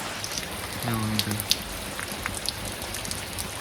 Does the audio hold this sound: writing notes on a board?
no